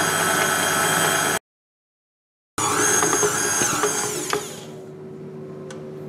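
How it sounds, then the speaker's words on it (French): A stand mixer kneads stiff fritter dough for carnival bugnes at low speed, giving a steady, close motor whir that cuts out for a moment, returns, then settles into a softer, lower hum. "Alors maintenant je vais mélanger à petite vitesse, juste pour mélanger tous les ingrédients ensemble"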